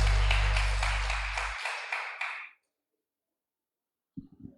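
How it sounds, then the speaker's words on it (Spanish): A church congregation applauds with a loud, pulsing roar of clapping over a low organ-like drone, then breaks off abruptly into silence before a faint sound returns. "Démosle un fuerte aplauso al Señor"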